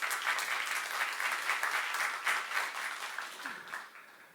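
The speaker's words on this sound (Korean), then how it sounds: "박수며 하나님께 원드리십시다." A church congregation at a Korean youth service applauds to God, steady dense clapping held at moderate level for several seconds before tapering off.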